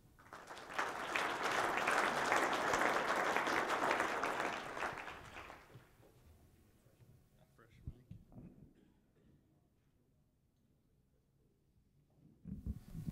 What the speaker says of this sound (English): So let's give a round of applause to Nathan Jensen.